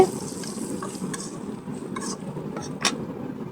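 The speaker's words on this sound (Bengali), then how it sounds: "এবার ভালোভাবে নেড়ে" A spoon stirs a potato and flat bean curry with turmeric, chilli and cumin powder in a pan, making soft wet mixing and scraping under a low sizzle, with a few sharper clinks and one louder scrape near the end.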